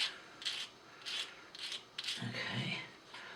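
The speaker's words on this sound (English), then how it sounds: "it's only sanding them little bits off" Fine sander rubbing against small parts of a Queen Mary 2 scale model in short, repeated strokes of soft, hissing abrasion, faint and close, with a low murmur of voice in the middle.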